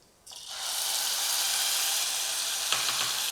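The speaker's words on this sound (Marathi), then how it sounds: "आता हे तयार करून घेतलेलं वाटण घालायचं" Ground spice paste dropped into hot oil with cumin in a pressure cooker, bursting into a loud, steady sizzle that holds for about three seconds with a brief clatter near the end.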